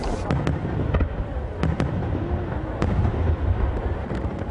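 Fireworks burst in a rapid series of sharp bangs and crackles, with several loud reports standing out over a continuous rumbling, crackling wash, heard fairly close and with no talk.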